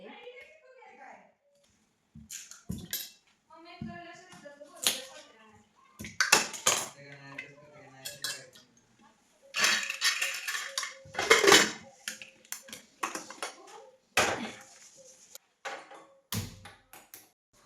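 Pots and utensils clatter in a home kitchen while cut potatoes go into a pressure cooker for pav bhaji, with sharp metallic knocks and clinks in irregular bursts between stretches of someone talking.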